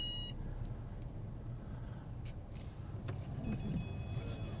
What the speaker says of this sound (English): I start my driving impression with turning on the street, so you get an idea how it is to turn the car on a street